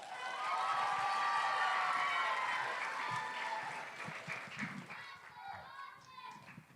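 School audience at a Dallas elementary oratory competition cheering and clapping for a fourth-grade finalist, loud at first, then fading into scattered claps, footsteps and children's chatter.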